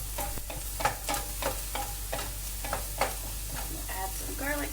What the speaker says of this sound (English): Now you want to add your onions to this pan. that has the little bit of fat from the meat in it.